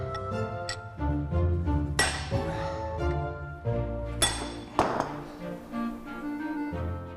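Metallic strikes of a hammer driving a punch into the seized rear suspension hub of a James Bond Lotus Esprit, a few sharp ringing blows spread irregularly among clinking workshop sounds, with no talking.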